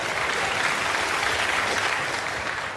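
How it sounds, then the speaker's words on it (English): A television studio audience on a comedy panel show claps steadily, a dense, even wash of applause holding at full volume throughout. "Which they clapped, even though there was a "the" in it between B and W."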